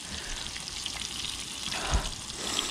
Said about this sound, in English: Now that oil's really cooking.